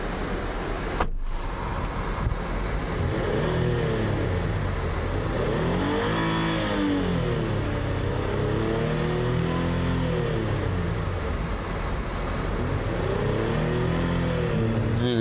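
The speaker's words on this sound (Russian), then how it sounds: "Двигатель работает идеально, без проблем." Nissan engine from a 2014 Pathfinder R52 with 77,000 on it revs repeatedly, rising and falling in smooth swells over a steady idle, close and loud with no talk.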